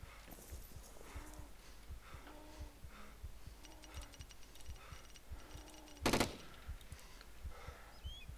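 A single sharp gunshot cracks out once in ARMA 2 DayZ, rising over a steady rhythm of horse hoofbeats clip-clopping throughout.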